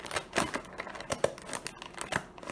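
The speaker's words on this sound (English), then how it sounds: "I'm gonna use some scissors to cut this part open." Scissors snip through plastic toy packaging during a Na Na Na doll unboxing, a run of short, sharp crinkly cuts and rustles at close range with no talking.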